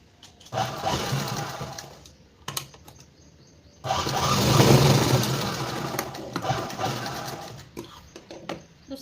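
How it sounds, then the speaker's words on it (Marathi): A sewing machine stitches fabric in short bursts of close, whirring motor hum, stopping and restarting with a longer run in the middle and quiet gaps between. "आता इथून दुसऱ्या कोपऱ्यापर्यंत आपल्याला शिलाई मारायची।"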